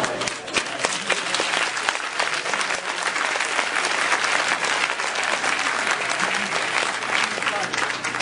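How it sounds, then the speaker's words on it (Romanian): Studio audience at a Romanian comedy show breaks into sustained, loud applause, dense clapping filling the room without pause for several seconds. "Nu știu sigur dacă cuvinte atât de grele trebuie aplaudate"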